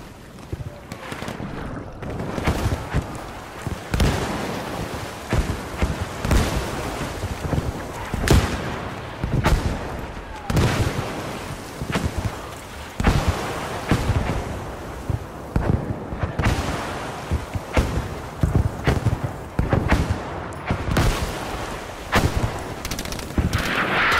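Video game battle with helicopters and a boat: dense, continuous gunfire and automatic bursts rattle throughout, punctuated by heavier explosive thumps, loud and close, with wind-like rumble beneath and players talking intermittently over the fighting.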